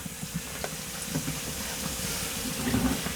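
Baking soda water fizzing and bubbling on battery plates during cleaning, a constant low watery crackle and gurgle with faint pops throughout.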